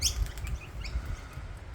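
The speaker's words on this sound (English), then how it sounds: "That's a noisy miner, that bird up there." Noisy miner birds call from trees in a cemetery, with short high chirps and a few brief whistled notes early on over a low, steady outdoor rumble, fairly faint and with no one talking.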